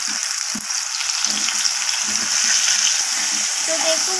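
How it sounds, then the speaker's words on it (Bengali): Taro pieces fry in hot oil, a dense, even hiss of bubbling oil that stays close and constant, with a few faint knocks underneath. "তো দেখুন, আমার সব কটা গুঁড়ি কচু আমি তেলের মধ্যে দিয়ে দিয়েছি"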